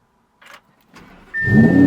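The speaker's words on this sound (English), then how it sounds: "Boom, car started right up." An Audi R8 firing up after a fresh key battery: a couple of faint clicks and whirs, then the engine catches with a sudden loud, full rumble and a steady whine that holds to the end.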